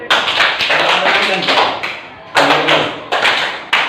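Close, loud hand claps and taps from a clapping game being demonstrated in a classroom, a few sharp strikes and a longer burst, under a voice giving instructions.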